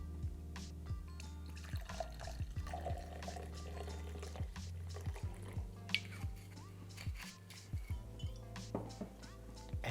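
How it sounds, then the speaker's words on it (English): Cynar is poured into a mixing glass or tin as a soft, steady liquid trickle with scattered drips and light splashes, close and quiet, with no talking. "fill your mixing glass or your mixing tin or whatever you're shaking with 3 ounces or 90 mils of Cynar"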